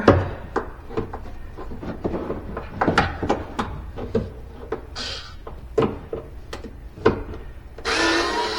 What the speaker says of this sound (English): take the screws out of the hinges